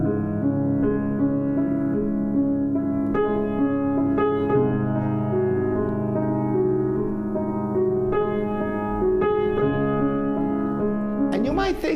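Slow, sustained piano chords from the Moonlight Sonata's first movement, played too slowly, ring out one after another, each new chord struck softly over the decay of the last, unhurried and even.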